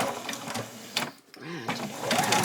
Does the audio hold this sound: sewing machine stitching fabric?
yes